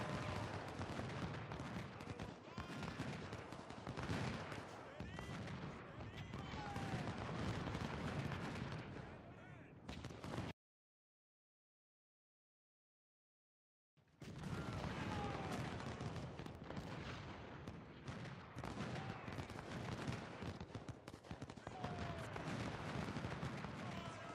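Artillery fire in the Ultimate General: Civil War game's river crossing battle, a dense, continuous barrage of booms and crackling gunfire that fills the scene, broken by a few seconds of silence before resuming just as heavily.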